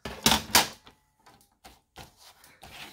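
Scissors snip through paper while cutting apart collage Christmas gift tags, two sharp close cuts at the start followed by softer scattered snips and rustles.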